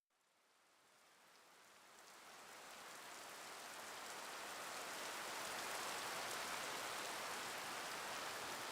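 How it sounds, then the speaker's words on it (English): Distant rain in the video game Tsukihime, a soft broadband hiss that fades in from silence and swells to a steady, gentle downpour, with no voices. "The long and gentle hiss of a rainfall touching down."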